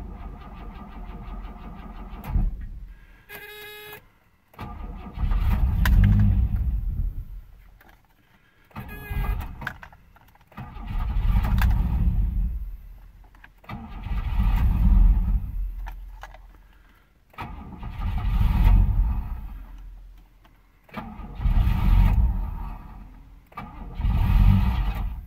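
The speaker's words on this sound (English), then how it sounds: "This is a cold start at 29 degrees or negative 2 degrees centigrade. And it is with a broken auxiliary air valve." Cold start of a car engine with Bosch L-Jetronic fuel injection and a broken auxiliary air valve, at about minus 2 °C: the starter whirs twice, then the engine catches and idles unevenly, surging loudly in repeated waves.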